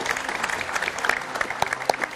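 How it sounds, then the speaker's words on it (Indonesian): Dense, steady applause from a TV talk show audience, many hands clapping at once with sharper individual claps popping out, sustained for the whole stretch. "Tepuk tangan yang meriah untuk narasumber saya pada malam hari ini"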